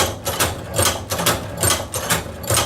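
A Cowboy Outlaw hand-operated leather sewing machine stitching leather, giving a steady repeating series of loud mechanical thumps and clacks in an even rhythm, close by with no talking.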